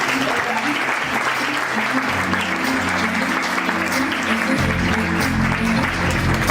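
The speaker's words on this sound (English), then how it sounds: "Ladies and gentlemen, round of applause for my mentor, Tonya Williams." A large audience gives a loud, sustained round of applause for a speaker, thick and continuous throughout, with a low murmur of voices and some music underneath.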